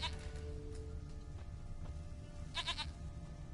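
A goat bleats in the Witcher 3 game, a few short nasal calls heard faintly against a quiet ambient background, with one clearer bleat near the end.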